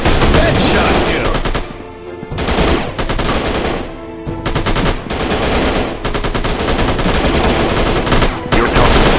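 Automatic gunfire in the Android shooter Gun Strike 2, loud, close bursts of rapid shots that rattle on almost nonstop with only brief pauses between volleys.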